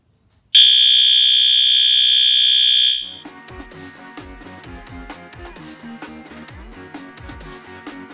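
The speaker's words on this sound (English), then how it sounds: "I have this giant daisy chain of fire alarms here" A daisy chain of Wheelock fire alarms sounds indoors, a loud piercing steady electronic tone for about two and a half seconds, then cutting to rapid repeated clicking and tapping horn pulses.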